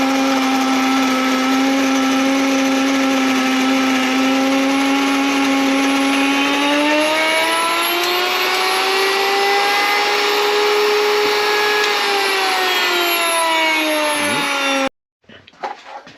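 Electric grain mill grinding wheat berries into coarse flour, a loud steady high-pitched whine whose pitch rises partway through, then cuts off abruptly near the end, followed by brief faint clatter.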